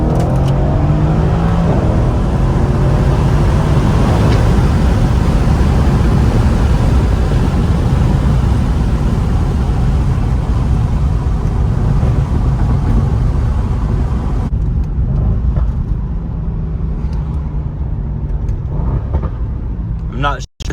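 Stock Mercedes-AMG exhaust burbling loudly through a continuous drive, engine drone steady throughout with occasional crackles and pops, a voice talking over it.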